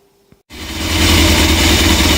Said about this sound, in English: that's the bike outside and that's the engine running